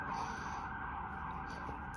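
A distant emergency siren drones on as a steady, sustained tone behind faint background noise, fairly constant in loudness throughout.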